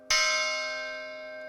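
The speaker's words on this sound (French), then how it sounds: "une cloche est un instrument de musique, mais qui ne produit qu'une seule note" A single cast church bell, freshly made from molten metal, struck once with a sharp onset and a long, slowly fading, harmonic ring heard on its own.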